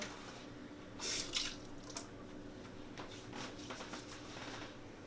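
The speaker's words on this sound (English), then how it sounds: "I'm just going to wash whatever's left on my hands off" Running water from a tap rinses leftover hair styling product off hands at a sink, a steady soft splash with a few louder bursts of flow, close and fairly quiet with no talking.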